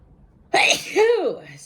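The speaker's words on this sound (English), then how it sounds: "I have to sneeze." A single sharp sneeze bursts out close by, a quick breathy intake followed by a loud explosive release, then fading.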